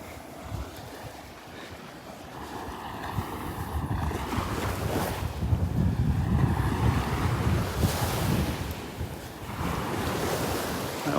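Surf rolls in steadily on the beach at Delnor-Wiggins on a morning walk, a continuous wash of breaking waves with wind buffeting the microphone.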